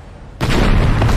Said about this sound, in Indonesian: akibat dari ledakan dahsyat itu